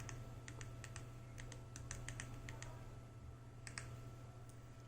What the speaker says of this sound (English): We need to press Y and hit enter.